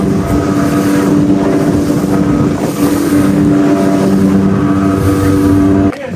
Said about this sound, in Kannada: ಸೊ ನಾವು ಸ್ಪೀಡ್ ಬೋಟಲ್ಲಿ ಹೋಗಿದ್ದು